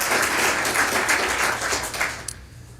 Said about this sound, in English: would you join me in giving Dan a round of applause for all of his